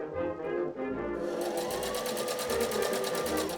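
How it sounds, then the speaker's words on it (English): A sewing machine stitches facings onto the neck and sleeve openings of a 1920s-style dress, sewing carefully over the shoulder seam allowances. It gives a steady, close, continuous mechanical whir with a rapid needle rhythm throughout. "I could sew the facings to the neck and sleeve openings."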